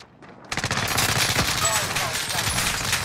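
Sustained gunfire in a battle royale game match, breaking out after a brief quiet start into dense, continuous rapid shots that stay loud throughout.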